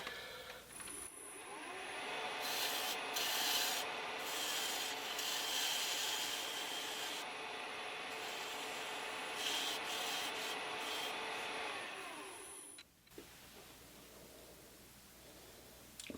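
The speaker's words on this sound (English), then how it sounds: "I'm using my spindle gouge for shaping the bottom here." A spindle gouge shapes the bottom of a wooden piece turning on a lathe, giving a steady, close scraping and rubbing hiss for about twelve seconds before stopping and leaving a quieter hum.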